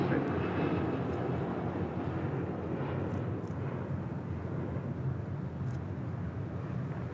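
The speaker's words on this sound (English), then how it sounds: "the Dreamliner making that left-hand turn on to Lima." A Boeing 787 Dreamliner taxis and turns onto a taxiway at LAX, its engines a steady broadband roar that holds for the whole stretch, with faint radio chatter from the tower in the background.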